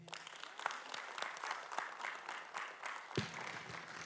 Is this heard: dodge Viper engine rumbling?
no